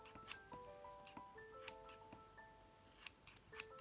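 Small scissors snip the loose edges off felt feathers, a string of crisp, quiet cuts in irregular rhythm, heard close up with no voices.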